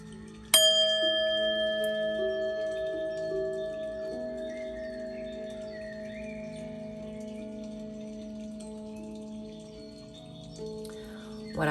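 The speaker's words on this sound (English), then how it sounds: "let's hit the bell, clear your energy," A singing bowl or meditation bell struck once, ringing with a bright, sustained metallic tone that slowly fades over several seconds in a quiet room.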